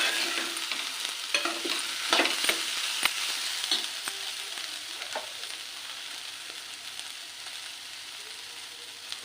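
Ivy gourd fries in a pan, a continuous close sizzle broken by irregular scraping and clinking stirring strokes, busier early and steadier later, with no voices.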